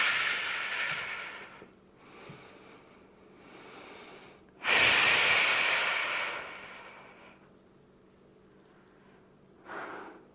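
Breathing out during a mat Pilates lower-body workout: several soft breaths, then one long, loud exhale in the middle, followed by a quieter breath near the end, close and alone with no talk.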